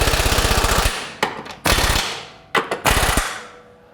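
A pneumatic impact gun turned up all the way tightens the lower control arm bolts on a 2015 Subaru Forester, loud close rattling bursts in four separate runs with short pauses between.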